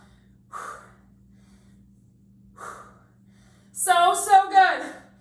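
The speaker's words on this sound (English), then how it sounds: "Exhaling as you curl." Two short, sharp exhaled breaths a couple of seconds apart during bicep curls in a strength workout, close and clear, followed by a person talking.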